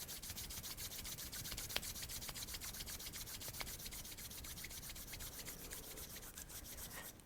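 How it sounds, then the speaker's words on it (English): Palms rub briskly together to build warmth during a seated yoga session, a continuous close, dry swishing friction with a steady back-and-forth rhythm and no talking. "take your hands, rub them together, create some heat"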